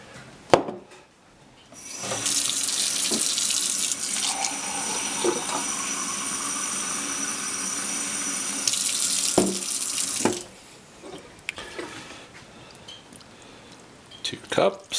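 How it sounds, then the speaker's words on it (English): Water runs from a tap, pouring steadily for about eight seconds over a jar of sprouting seeds, with quieter handling sounds before and after. "pour your 2 cups of water again"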